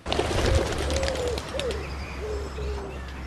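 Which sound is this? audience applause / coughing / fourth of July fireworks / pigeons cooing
pigeons cooing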